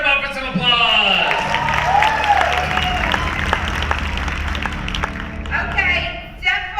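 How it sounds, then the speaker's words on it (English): An audience applauds at a Knott's Scary Farm puppet show, clapping and some cheering spread across the crowd while amplified voices and music sounds carry over the applause from start to finish. "Let's start them off with some applause."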